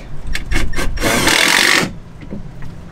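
A power tool fastens wooden studs for a sink frame inside a Mercedes Sprinter 4x4 van conversion: a few short close bursts, then a longer loud whir of about a second, and quieter handling afterwards.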